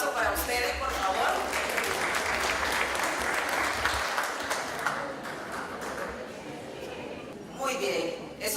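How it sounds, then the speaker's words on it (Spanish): An audience applauding at a panel session on international trafficking, a Spanish-language event: a sustained, fairly full round of clapping that gradually thins out toward the end, with some voices underneath. "un fuerte aplauso para ustedes, por favor."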